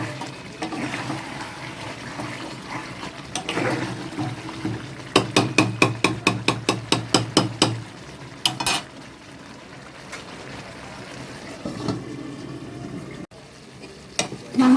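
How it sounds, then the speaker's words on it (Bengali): Meat is braised in a pan over a high gas flame. A soft sizzle runs underneath while a utensil scrapes and clanks against the pan in a quick rhythmic burst of about a dozen strikes, followed by a few scattered knocks. "আমি গ্যাসটাকে হাইতে দিয়ে দিয়েছি, দিয়ে এবার একটু আরও ভালো করে কষিয়ে নিচ্ছি।"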